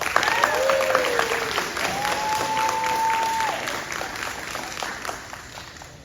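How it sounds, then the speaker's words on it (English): Applause at a Cub Scout pack crossover ceremony, a crowd clapping warmly in an indoor space with cheers and whoops rising above it, tapering off over several seconds. "All right, one more time, big round of applause."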